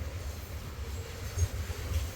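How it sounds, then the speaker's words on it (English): An eastbound CSX freight train rolls past, a steady low rumble of wheels and cars with slight swells, fairly loud and close, and no one speaking. "we do have an eastbound CSX coming along here real quickly, and there he is"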